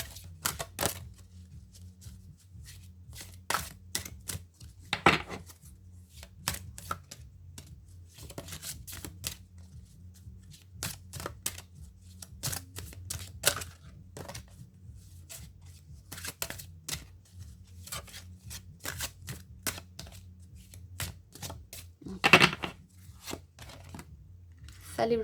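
Tarot cards being shuffled and drawn during a reading, with soft rapid flicks and slaps of card stock in bursts over a low steady hum, a few sharper snaps standing out, no talk.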